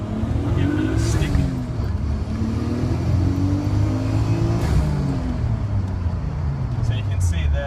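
A car revs hard in first gear, its engine note rising and falling in strong sweeps with a steady loud drone throughout, close to the listener.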